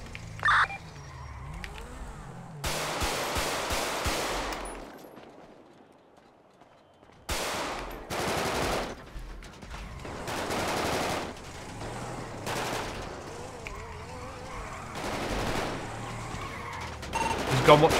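Gunfire in the video game GTA 5 comes in repeated loud bursts of rapid automatic shots, separated by short gaps and one longer quiet stretch, with game sounds around them.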